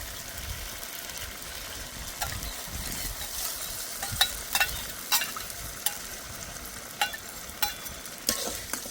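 Spice paste of ground ginger, cumin and dried red chilli, loosened with spice-rinsing water, sizzles steadily in a pan for katla fish curry, while a spatula scrapes through it in scattered sharp strokes, close up with no voices.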